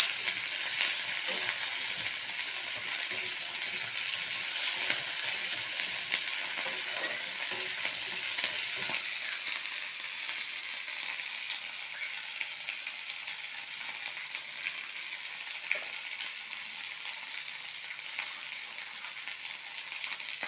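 Chopped tomatoes sizzle in hot oil for a Rohu fish curry, a steady hiss of frying that holds throughout, with occasional light stirring scrapes and no talking.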